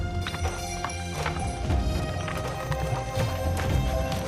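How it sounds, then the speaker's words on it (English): Horse caravan hooves clip-clop over rugged mountain roads, a busy, continuous clatter of many steps mixed with scuffs and knocks in a noisy outdoor setting. "Over rugged terrain, horse caravans struggle along the ancient silk and tea roads."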